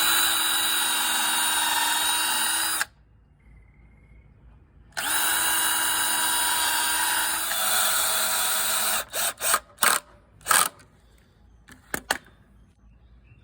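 A power drill bores pilot holes into wood for a patio raised garden bed, running in a long steady whine, pausing, whining again, then finishing with several short quick bursts and a few faint taps, close and alone.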